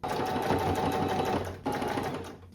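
A sewing machine runs in two close bursts with a short pause between them, stitching a tapered side seam on a thrifted top, loud and near with no talk.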